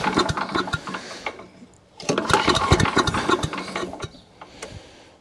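An old petrol chipper shredder engine, long unused and running on choke, sputters and catches in uneven bursts, briefly dies back, then fires again into a rough, loud putter close by with sharp ticking pulses.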